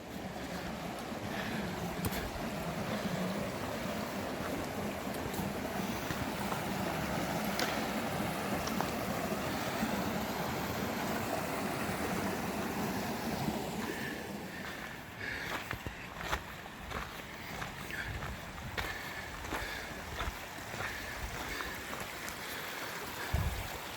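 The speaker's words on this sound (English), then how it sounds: "Creek runs through here." A creek flows beside a campground trail in the Grand Canyon, a continuous soft rushing of water heard from nearby, steady throughout with faint rustles.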